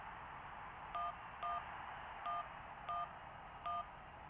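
Telephone keypad dialing tones from the video game Syberia: five short, faint two-tone beeps pressed in an uneven rhythm over a steady hiss, with no voices.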